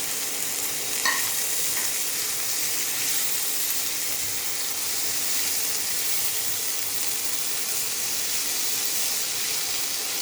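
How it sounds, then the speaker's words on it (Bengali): Green beans, tomato and peas frying in a pan while being stirred, a steady close sizzle with soft scraping of the spoon, no voices. "বিনসটা দিয়ে একটু নাড়াচাড়া করে তারপর এতে দিয়ে দেবো টমেটো আর কড়াইশুঁটি"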